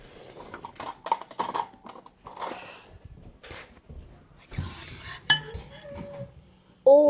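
Scraping microwaved, melted candy corn off a dish, heard as scattered close scrapes and clinks of a utensil against the dish with quiet pauses between.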